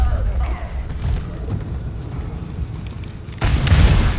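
A rat explodes in the Resident Evil 4 video game: a sudden loud boom bursts out near the end after a stretch of low, rumbling game noise.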